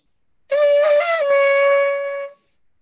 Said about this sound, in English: A shofar sounds like this.